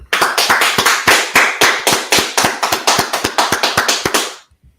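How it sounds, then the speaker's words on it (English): A crowd claps steadily, fast dense applause with regular sharp accents throughout, close and loud, fading out abruptly at the end. "let's clap it up"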